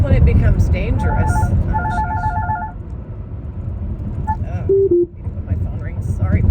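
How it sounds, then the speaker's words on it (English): A phone rings with repeated short electronic tone bursts, then a pair of brief beeps, under and between steady talking in a room. "When my phone rings, sorry about that."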